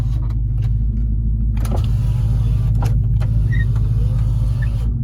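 Power window motor in a 2003 Chevy Silverado door, a low steady electric whir under the truck's idling hum, with a few clicks and knocks partway through and no talk.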